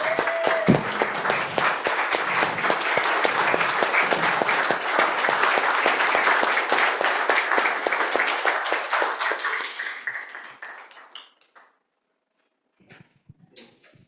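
Audience at a team meeting standing and applauding, a dense, loud round of clapping that holds steady for about ten seconds, then thins out and dies away to a few scattered claps.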